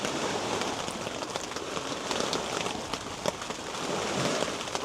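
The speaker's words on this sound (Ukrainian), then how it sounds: "на вулиці дощ. Ну як дощ, ливень, гроза" Heavy rain pours steadily on and around a tent during a thunderstorm beside a reservoir, a dense, continuous close hiss of drops drumming on fabric with no talking.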